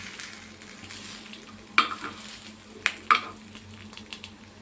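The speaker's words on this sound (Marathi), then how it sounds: "थोडंसं पुन्हा शेकून घेऊया हे बघा मस्त असे दोन्ही साईडने छान असे क्रिस्पी होऊ द्यायचे" Moong dal appe frying in an appe pan until crisp on both sides, with a soft, quiet sizzle and a few sharp clinks of a utensil against the pan.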